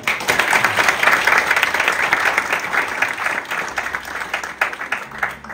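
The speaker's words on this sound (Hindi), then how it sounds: "तो जरा ताली अच्छे से बजा लो।" A crowd at a Garhwali community havan and bhajan gathering in Norway bursts into vigorous, sustained clapping, loud and dense at first, then thinning slightly toward the end.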